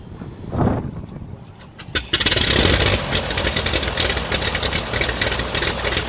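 The engines of a Beechcraft Baron twin-engine aircraft are heard. The clip opens quiet with a brief burst near the start, then after two seconds the engines run loud and close in a steady, throbbing drone.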